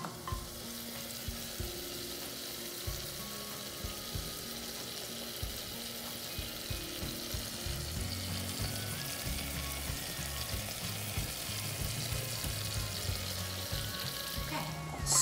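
Onions frying in a pan for scalloped potatoes, a steady soft sizzle with light stirring scrapes, fairly quiet and continuous with no talking.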